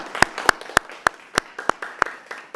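A small audience gives a round of applause for a live band at an evening show, sparse individual claps spaced out and fairly distinct rather than a dense ovation.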